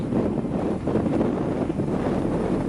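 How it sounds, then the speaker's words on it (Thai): Strong wind buffets the microphone in a steady, loud low rumble at an outdoor pond during a fishing trip, with no clear voices over it. "ลมแรงจังเลย"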